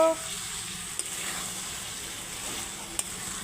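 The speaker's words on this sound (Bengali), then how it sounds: "হলুদের গুঁড়ো একটু দিয়ে দিচ্ছি সামান্য এক চামচ দিয়েছি ছোট চামচের দিয়ে এখন নাড়াচাড়া করব" Ridge gourd with green chilli and turmeric being stirred in a frying pan, a soft continuous sizzle with two brief scrapes of the spoon.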